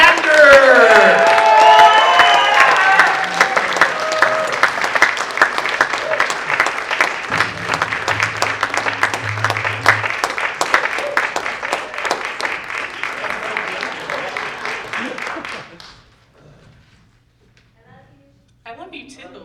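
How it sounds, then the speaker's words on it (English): An audience at a poetry and spoken-word event bursts into dense applause with cheers and whoops at first, the clapping continuing steadily before tapering off near the end into near quiet, with a few voices after. "Now keep on clapping for Victoria"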